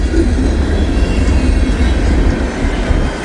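A Conrail freight train rolls past close by on a snowy day, a long boxcar of roughly 89 to 90 feet in view, giving a loud continuous rumble of heavy wheels on rail.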